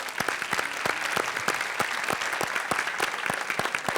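A studio audience at a Spanish-language TV variety show bursts into sustained clapping, loud and even, many hands together with sharp individual claps standing out, around four seconds alone.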